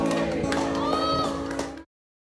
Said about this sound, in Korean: 남성이 아이에게 다가가 다시 창틀 안으로 밀어넣자 사람들이 환호성을 지릅니다